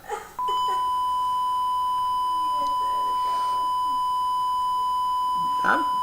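A single steady 8-bit electronic beep from a Chip-8 interpreter sounds continuously, thin and tinny, with faint brief noises and a short voice-like burst near the end.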